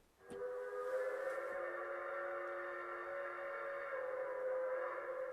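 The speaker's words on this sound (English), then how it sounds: "you get a train whistle." Custom horn fitted to a Mercedes horsebox camper conversion sounds a train whistle, a loud sustained multi-tone blast holding steady for about five seconds after a short click.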